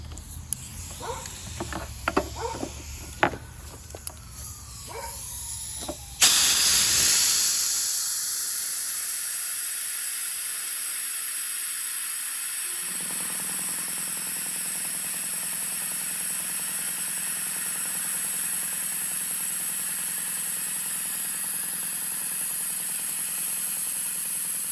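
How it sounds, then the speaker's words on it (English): Compressed air blasting through a front brake caliper from a 1982 Yamaha Maxim XJ750 motorcycle, a loud sharp hiss after a few seconds of clicking handling noises, then a long steady rushing blow that settles into a continuous whoosh. "go try and blow these out with air"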